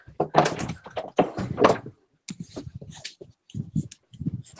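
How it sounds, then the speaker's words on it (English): Knocks sound on a door, a few quick solid raps at moderate distance, mixed with indoor rustling and movement in a quiet room. "Someone's knocking on the door."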